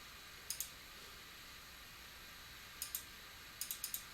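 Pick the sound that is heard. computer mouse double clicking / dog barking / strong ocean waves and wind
computer mouse double clicking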